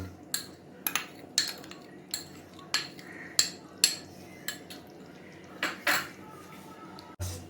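Green and red tomato paste is mixed in a cooking pot for a simple mutton dish, with a metal spoon knocking against the pot in a loose rhythm of about a dozen sharp clanks over a low background hum, close and with no speech.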